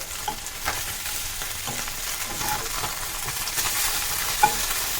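Bhetki fish paturi wrapped in leaves fries in a pan after flipping, producing a continuous soft sizzle with scattered light clicks and scrapes from handling, and no speech.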